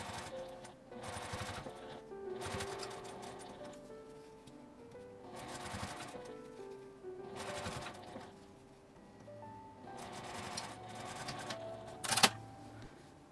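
A sewing machine stitches a small keychain pouch in quiet, repeated bursts of rapid needle clatter separated by short pauses, with a sharp click near the end.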